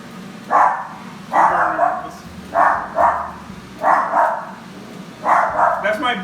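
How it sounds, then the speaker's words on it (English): A pet dog barks in a kitchen, greeting other dogs with about five short, moderately loud barks spread evenly across the stretch, some doubled, over a low background hum. "that's my dog saying hi to her friends."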